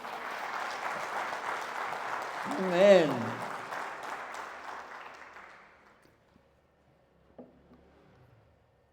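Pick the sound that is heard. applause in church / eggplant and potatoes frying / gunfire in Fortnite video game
applause in church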